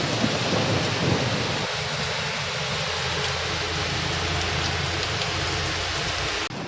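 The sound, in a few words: heavy rain and thunder in Daman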